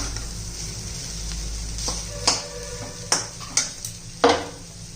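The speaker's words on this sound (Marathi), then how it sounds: "शेंगदाण्याचं कूट घातल्यावर पण एखादा मिनिटभर छान असं गरम करून घ्यायचंय" Peanut powder being roasted in a pan for spicy potato thecha, with a soft low sizzle broken by a handful of sharp scraping and stirring clinks of a spoon against the pan, growing more frequent toward the end.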